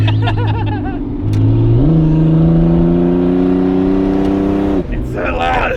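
Heard from inside the cabin, a turbocharged SOHC Ford Fairlane is loud and close as its engine rises through a rev and then holds a strong, steady drone before briefly backing off at the end.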